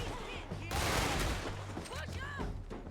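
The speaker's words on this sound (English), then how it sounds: "What the fuck kind of gun was that?" A burst of rapid gunfire from Red Dead Redemption 2 fills the middle of the clip, a dense volley of shots, with game ambience and faint voices around it.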